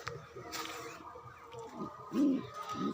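A pigeon coos softly several times close by, the low throaty calls rising toward the end over faint background noise.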